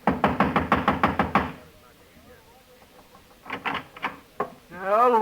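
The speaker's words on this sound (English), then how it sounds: "I walked over and started knocking again." Radio drama sound effect of knocking on an apartment door: a rapid run of about a dozen loud raps, then quieter knocks later. A voice follows at the end.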